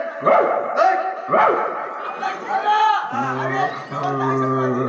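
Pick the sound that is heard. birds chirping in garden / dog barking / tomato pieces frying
dog barking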